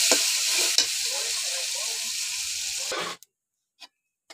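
Onions, green chillies and spices fry in hot oil in a pan while being stirred, a loud close sizzle with scraping that stops abruptly near the end, followed by a couple of faint knocks.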